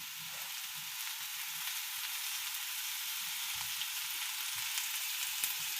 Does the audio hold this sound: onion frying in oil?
yes